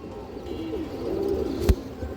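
A single tagged Darshak high-flyer pigeon gives one low, drawn-out coo close by over faint background noise, followed by a sharp click.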